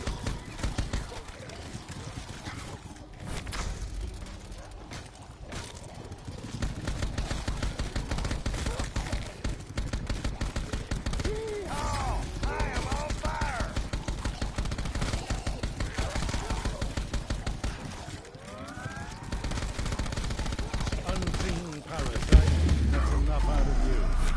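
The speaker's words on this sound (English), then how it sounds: "Gunshots." Rapid gunfire in a Western-themed video game rings out in repeated sharp bursts, layered with clip-clopping hooves and frequent spoken dialogue throughout.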